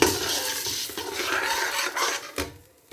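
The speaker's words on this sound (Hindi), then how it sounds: "टमाटर का पेस्ट। आप अपने टेस्ट के हिसाब से इन चीज़ों को ऐड कर सकते हैं और इसको करेंगे अच्छे से मिक्स।" Tomato paste being stirred into a pasta sauce in a pan, a close, dense rasping scrape of the spoon against the pan over soft sizzling, tapering off at the end.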